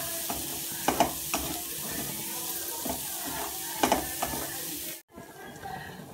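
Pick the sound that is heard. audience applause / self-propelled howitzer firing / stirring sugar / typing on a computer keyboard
stirring sugar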